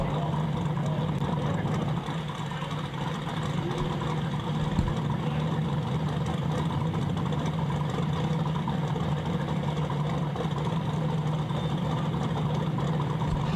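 A 1968 Dodge Dart drag race car idles at the track, its engine giving a steady, rough low rumble that holds for the whole stretch. A commentator talks over it.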